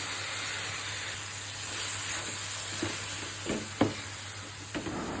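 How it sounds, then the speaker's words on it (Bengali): Onion, garlic and dried bamboo-leaf fish fry in a pan with a soft, steady sizzle, and a few scraping stirs of a spatula knock near the end. "শুটকিটা ভালো করে ভুনা করে নিব।"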